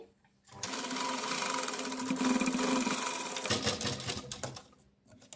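A sewing machine stitches a girl's Pathani suit in one continuous, close, rapid run lasting several seconds, its steady mechanical chatter loud throughout and slightly changing in tone before it winds down.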